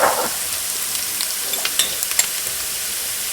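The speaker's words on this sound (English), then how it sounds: "Mix them all in over low heat." Oregano, rosemary and thyme stirred in a pan over low heat for a baked rigatoni sauce, giving a soft steady sizzle with a brief louder scrape at the start and a few faint clicks of the spoon.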